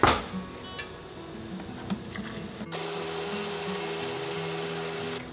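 After some faint handling clatter, a blender suddenly roars to life pureeing fermented jalapeños with brine, a steady loud motor whir filling the last half.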